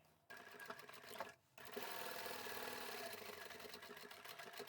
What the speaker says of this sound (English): We're going to sew straight down this edge here.